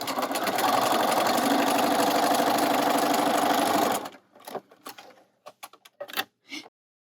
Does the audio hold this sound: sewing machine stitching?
yes